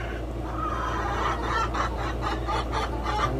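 Free-range chickens on a farm cluck in quick, repeated bursts that grow busier toward the end, heard up close over a constant low background hum.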